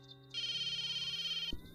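A phone rings in the video game Psycho Patrol R, a single loud electronic warbling ring tone lasting about a second, cut off by a soft thump, with faint game ambience around it.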